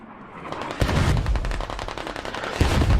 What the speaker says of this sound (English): MG starting to open up into the smoke, trying to hope to get just that cheeky kill.